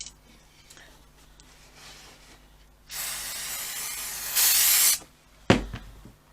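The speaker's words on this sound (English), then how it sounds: "I just want to spray that bit so I can just overlap it just a little bit" An aerosol spray hisses onto fabric for a carry cot cover in two bursts, the second stronger and brighter, followed by a soft knock, close up, with no talk.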